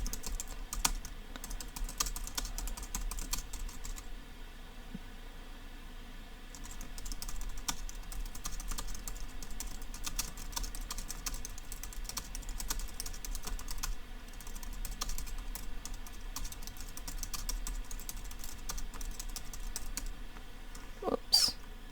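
Typing on a Jelly Comb multi-device Bluetooth keyboard with touchpad, quiet rapid key clicks running steadily over a faint background hum, with a brief louder noise near the end.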